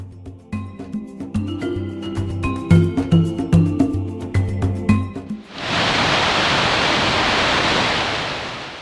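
Murchison Falls on the Nile, where the river squeezes through a narrow gorge, enters as a sudden, steady, loud broadband roar of rushing water after a stretch of music.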